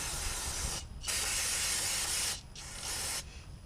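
Aerosol carb cleaner sprayed on a 2007 Subaru STI valve cover in three hissing bursts with short pauses between them, close and steady, no talking.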